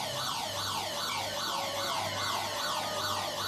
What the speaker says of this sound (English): The siren about to sound in the background.